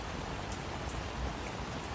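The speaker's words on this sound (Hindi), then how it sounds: "बाहर बहुत तेज बारिश हो रही है" Heavy rain pours outside as a steady, dense hiss and patter. It is continuous and even throughout, with no voices.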